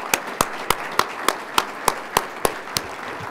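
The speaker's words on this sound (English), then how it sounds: "I think they did a great job. An applause." A conference audience claps for a panel at a dairy technology session, with about a dozen sharp, evenly spaced claps that sound like one or a few people rather than a full crowd, fairly close and without talk.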